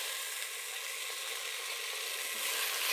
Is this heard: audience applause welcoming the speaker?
no